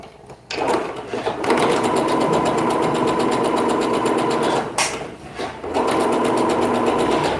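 A sewing machine runs a dress seam at a 1 cm margin, humming loud and fast in a long steady stretch, then pausing briefly before a second run.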